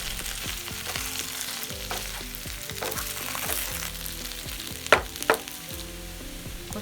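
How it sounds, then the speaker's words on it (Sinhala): Potato pieces sizzle and crackle steadily in hot oil, and two sharper scraping knocks near the end mark the spoon turning them over; quiet and close. "මේ විදිහට හැඳින් දෙපැත්ත පෙරලමින් අල ටික බැද ගන්නවා"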